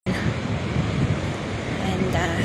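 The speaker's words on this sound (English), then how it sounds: "And a little windy today" Wind and surf on a beach at low tide on a windy morning make a constant, loud broadband rush, with waves washing in and wind buffeting the microphone and no clear voices.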